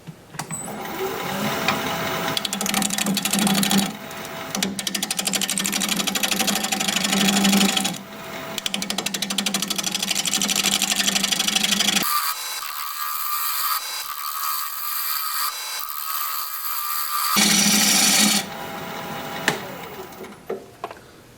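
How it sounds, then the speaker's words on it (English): Wood lathe turning a bowl at 740 RPM with a 5/8 inch bowl gouge, a loud continuous motor hum with rough cutting noise, broken by several pauses when the tool lifts off. "We're going to be turning at 740 RPM, 5/8 inch bowl gouge"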